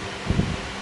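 Steady breathy rush of a Zeb Bion Clima electric fan on speed 1, close to the microphone, with a brief soft bump partway through.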